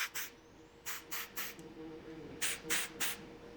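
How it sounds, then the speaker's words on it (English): Several short hissing bursts of aerosol mold release sprayed onto a rifle's front action screw, coming in quick groups of two or three, close and fairly quiet against a faint background hum. "a quick spray of the mold release on your front action screw"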